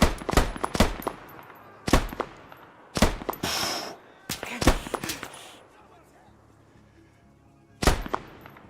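Machine gun fire in the military shooter Arma 3: several sharp, loud bursts of automatic rounds in quick clusters, with echoing tails and gaps between volleys, one last burst after a pause.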